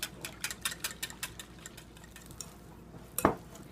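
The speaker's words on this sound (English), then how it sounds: "I'm just going to go ahead and whisk this until it becomes a smooth batter" Egg batter for aebelskivers is whisked in a bowl, producing quick rhythmic ticking strokes that fade into quieter stirring, then a sharper utensil clack near the end.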